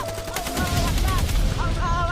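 Sustained gunfire in a war short film: a rapid, continuous barrage of shots, loud and close, rolling without pause over a rumbling battle background.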